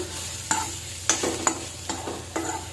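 Paneer curry masala stirred in a pan over a low flame: five distinct scraping strokes of a spoon at a steady pace under a soft, continuous sizzle, close and moderately loud, with no talking.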